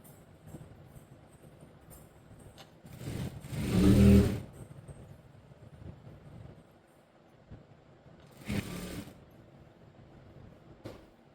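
A sewing machine stitches a folded hem on a school coat in two bursts, a longer whirring run and then a brief one, over quiet room noise.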